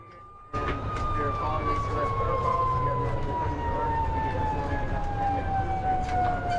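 An ambulance siren starts abruptly and sweeps slowly downward in pitch, loud over the moving ambulance's rumbling engine and road noise.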